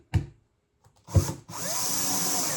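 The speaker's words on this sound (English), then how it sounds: "Let the drill do the work" A power drill whirs in two short bursts, then runs steadily as it drives a screw into a birdhouse, close and fairly loud with no talking.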